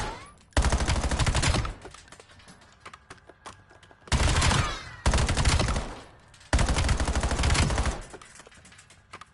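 Bursts of submachine-gun fire from an MP weapon in the video game Black Ops 7 on PS5, four loud sustained automatic volleys separated by short quiet gaps.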